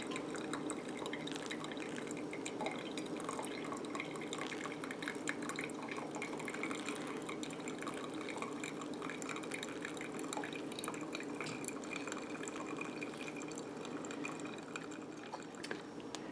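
Coffee drips through a Java Presse stainless steel pourover filter, a faint, steady patter of small drops and trickling liquid running continuously with no voices.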